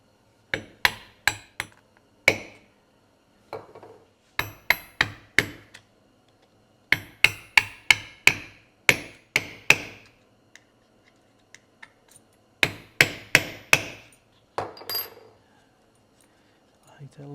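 A hammer strikes a metal rivet setter to set a number 12 leather rivet burr: sharp, close metallic taps in quick clusters of three to five, separated by short pauses.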